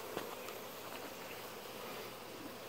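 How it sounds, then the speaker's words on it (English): Honey bees fly back toward their hive in a faint, steady buzz that hangs low under a soft, even background hiss, with no distinct single insect standing out. "these bees will mostly fly back"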